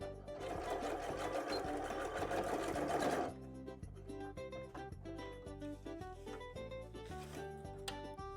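A sewing machine stitches through soft, pliable fleece blanket fabric, running in a steady fast whir before the motor note shifts into a lighter, rhythmic clatter, close and continuous with no talking.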